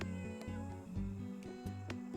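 A cartoonish cat meows repeatedly in the Cat Cafe Manager video game, several short mews over a light looping music bed with soft percussive ticks, clear and close.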